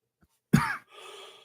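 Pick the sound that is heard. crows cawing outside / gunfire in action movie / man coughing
man coughing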